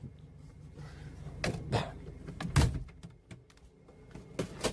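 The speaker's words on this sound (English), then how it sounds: "Oh, let me close the door." A door is closed inside a vehicle stopped in the middle of a road, several short thuds and clunks standing out over a low background hum, with no talk heard.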